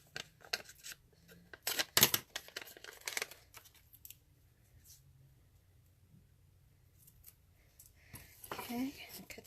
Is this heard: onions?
no